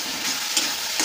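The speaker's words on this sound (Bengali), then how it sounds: "ভালো করে নাড়াচাড়া করে মশলাটা কষে নেব" Spice masala sizzles and fries in a pan while being stirred, a steady dense hiss with faint scraping touches, close and continuous for a brief moment with no voices.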